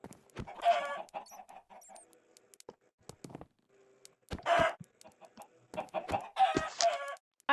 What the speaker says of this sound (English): this is a normal chicken farm